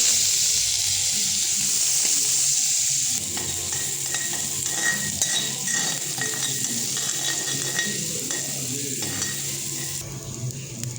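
Chopped green chillies, garlic and small onions frying together in hot oil, a loud continuous sizzle and hiss close by with occasional spatula scrapes and clinks against the pan.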